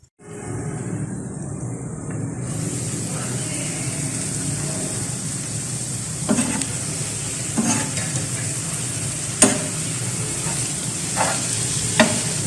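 Onions sizzling steadily on a tawa for spicy chicken, a continuous close frying hiss with occasional sharp clinks and scrapes of a utensil against the pan, no voices.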